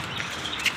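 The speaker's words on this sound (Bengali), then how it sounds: "পাখিগুলো আছে, সব চিচি চিচি করে আওয়াজ করছে।" Birds chirp at Alipore zoo in Kolkata, a few short high tweets scattered over faint outdoor background noise, fairly distant and soft.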